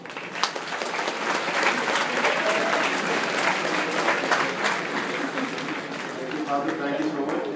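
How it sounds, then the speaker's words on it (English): Loud, sustained applause from an audience at a dental awareness camp, a thick continuous patter of many hands swelling slightly mid-way and easing toward the end, with some voices murmuring underneath. "Let's once again appreciate him with a loud applause."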